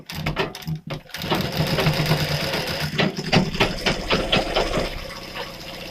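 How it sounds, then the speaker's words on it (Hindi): A sewing machine runs steadily, stitching a straight seam on a katori-cut blouse, with a loud continuous mechanical whir close by after a brief pause near the start. "ये इस प्रकार से सीधी सिलाई लगाएंगे"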